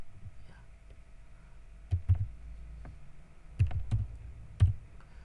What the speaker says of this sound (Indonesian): Ketik nama filenya